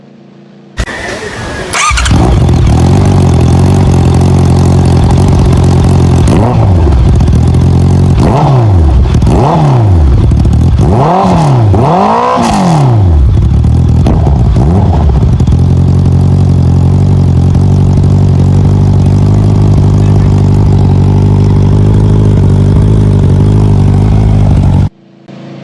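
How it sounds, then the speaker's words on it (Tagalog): A Honda CBR650R motorcycle engine fires up and idles steadily, then gets several sharp rising-and-falling revs before settling back into a smooth, loud idle that runs on alone until a sudden cutoff. "let us at least have a sound check for us to see the difference of the engine. So first is we'll have the CBR650R"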